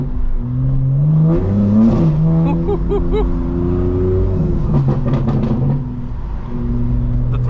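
Tuned 2025 BMW M4 Competition accelerating hard from inside the cabin, a loud engine note that rises through the revs, drops back on a shift and climbs again.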